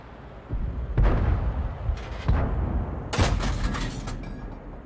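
Tank cannon shots in World of Tanks, a tier 6 tank battle, heard as several loud booming blasts with rumbling tails over steady battle noise, no talking.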